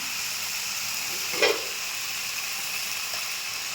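Brinjal sizzles steadily in a pan with turmeric and salt, a constant close hiss of frying with one brief louder burst as the vegetables are moved.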